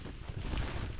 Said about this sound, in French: Il y a beaucoup de vent, il fait froid.